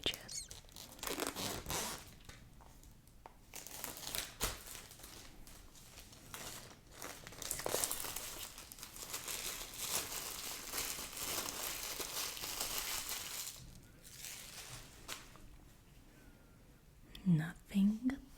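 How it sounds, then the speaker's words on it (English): A craft knife slices and separates the uncut pages of a hardcover art book, producing soft paper crinkling, tearing and scraping sounds that come close and intermittent, with a brief louder rustle near the end. "while opening the pages of the book with the X-Acto knife"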